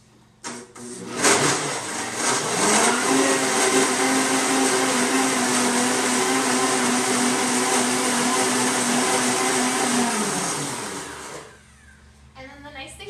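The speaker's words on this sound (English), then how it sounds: "I'm just going to blend it." A high-speed blender whirs loudly and steadily for about nine seconds as it blends green juice with apple and lemon, spinning up sharply at the start and winding down to a stop near the end.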